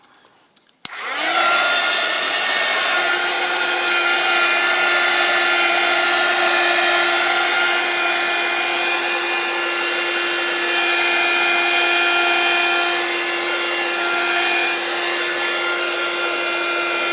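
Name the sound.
aerosol spray paint can blast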